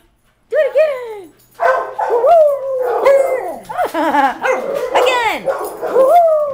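Several beagles bark, yip and howl close by in overlapping bursts after a brief silence, with a person talking to them now and then.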